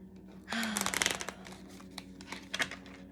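Oracle cards are shuffled close up in quick riffling bursts, a dense flurry of papery slaps followed by a pause and a second shorter burst, with no talk over them.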